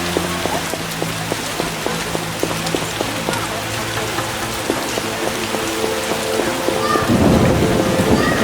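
Heavy rain pours with rumbling thunder in The Witcher video game, a dense steady hiss with scattered drips and a low rolling boom that swells near the end.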